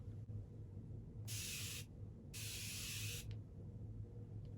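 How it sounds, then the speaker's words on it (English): Two quick spritzes of Chanel Hydra Beauty Essence Mist hiss from a spray bottle, each about half a second long, crisp and close over a soft background hum. "we will finish it all off with a spritz of the Hydra Beauty Essence Mist"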